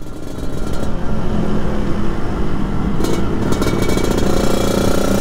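A 1991 Yamaha RXZ two-stroke motorcycle engine runs loud and close, a steady buzzing drone that holds throughout and grows slightly rougher toward the end.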